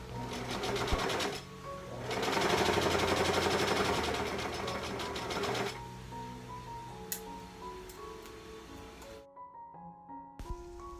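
Sewing machine stitching the cuffs and collar of an 18th-century chemise, fast rhythmic needle chatter in bursts, loudest in the middle, then slower stitches and a brief stop near the end.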